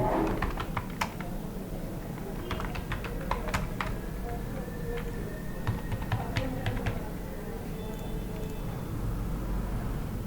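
Fast, irregular clicking of a computer keyboard as a student's name is typed into an Excel sheet, close and continuous with a low background hum and no speech.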